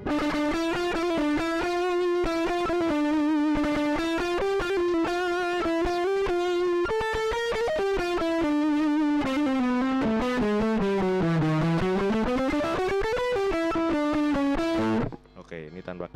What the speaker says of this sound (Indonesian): Dampaknya ketika ini distorsi, kita nyalain coba tanpa capsim.